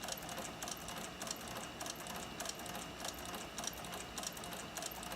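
A sewing machine stitches a dopp kit in a steady, fast, even rhythm of rapid needle strokes, continuous and fairly faint throughout with no talking.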